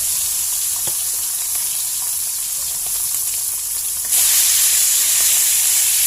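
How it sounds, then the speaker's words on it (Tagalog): Leftover fishing bait frying in a pan with garlic, a loud steady sizzle with faint stirring scrapes that grows suddenly louder and brighter near the end. "yung pain natin ay ating lutuin"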